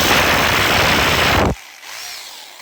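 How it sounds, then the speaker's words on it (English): A rotary hammer bores into a cinder block with a loud, dense grinding roar for about a second and a half, then cuts off abruptly, leaving a faint whine as it spins down. "We're using our rotary hammer."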